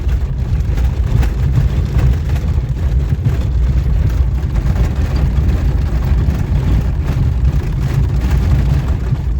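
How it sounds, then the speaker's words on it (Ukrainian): An old, small-displacement car engine running on gas rattles and clatters continuously, a loud, rough, low drone that holds steady throughout with no talk over it. "Вся грохотить, торохтить."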